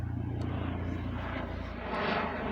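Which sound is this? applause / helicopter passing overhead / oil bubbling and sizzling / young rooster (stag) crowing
helicopter passing overhead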